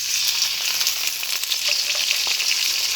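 Washed dried shrimp fry in hot mustard oil with a loud, steady, dense crackling sizzle that stays close and unbroken throughout, with no talking.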